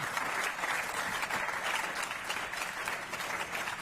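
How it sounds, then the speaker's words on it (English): An audience at a ranch cowboy awards gathering applauds steadily, a dense, even wash of clapping from a crowd with no voices over it. "how about a nice round of applause for all these folks"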